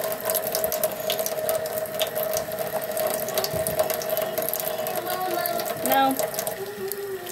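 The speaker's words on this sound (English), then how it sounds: "now I'm gonna wash my hands" Hands washed under a running kitchen tap, a steady splash of flowing water with some clinking and rattling, close and continuous, with a brief spoken word.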